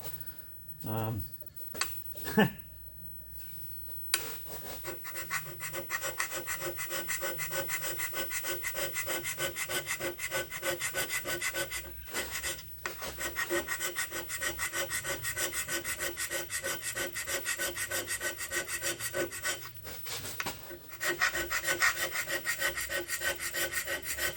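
Hand scraping on the worn bed of a Dean Smith & Grace lathe under repair: a few sharp knocks, then continuous rhythmic rasping strokes, close and steady, with brief pauses.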